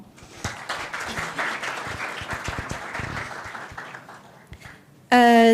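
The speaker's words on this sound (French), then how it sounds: "à vos applaudissements." Audience at an entrepreneurship panel on public markets claps for a panelist, a steady round of applause with scattered sharper claps that fades, then a loud burst of tonal music cuts in at the end.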